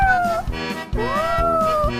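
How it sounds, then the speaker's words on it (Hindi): A cartoon kitten meows twice in quick succession, loud and close, with rising and falling calls and no talking over them. "वो छोटी बिल्ली अभी अभी बोली।"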